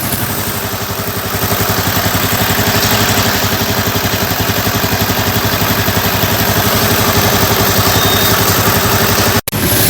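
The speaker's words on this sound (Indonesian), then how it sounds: "suara mesin lebih halus daripada ketika pakai Kix 20W50." A motorcycle engine running on Federal Ultratec 20W50 oil idles nearby, loud and even, with a steady rapid putter and a slight mechanical clatter throughout.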